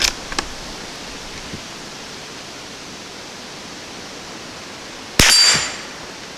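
A bullet strikes a steel bullseye target at an outdoor range, giving one bright metallic clang that rings briefly, after a small faint tick, over steady background hiss.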